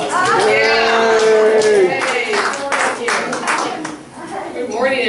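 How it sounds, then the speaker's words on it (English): A congregation at a Unitarian Universalist fellowship's Sunday morning service applauds as people walk in, steady clapping that fills the room and runs under speech throughout. "Let's give them all a round of applause."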